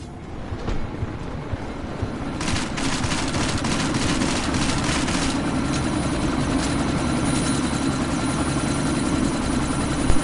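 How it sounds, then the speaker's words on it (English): A helicopter lifting off in the video game Deus Ex: Mankind Divided, its rotor throb a loud continuous low drone with a rapid beating texture, joined by brighter clattering mid-clip. "That chopper's about to take off!"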